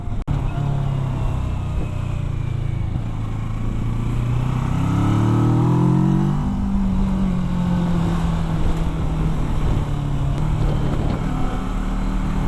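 The engine of a 2017 Kawasaki Versys 650 motorcycle drones steadily while the bike is ridden, rising in pitch as it accelerates and then settling, all under loud wind rumble.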